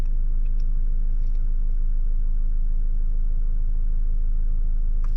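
A 2025 Toyota LandCruiser Prado Altitude with stability control switched off, its wheels spinning: a steady, loud low rumble of engine and tyres continues unbroken throughout, with faint higher squeaks near the start and end.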